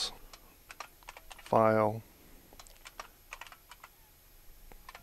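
Keys tapped on a computer keyboard while a folder name is entered on a Windows PC, a scatter of light separate clicks spread across the clip, with one brief spoken word midway.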